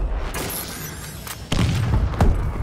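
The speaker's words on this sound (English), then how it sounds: "Enemy missile strikes incoming." Missile strike explosions in the video game Call of Duty: Advanced Warfare, with loud booming blasts and heavy low thuds, one sharp impact followed by a sustained rumble and further hits close by.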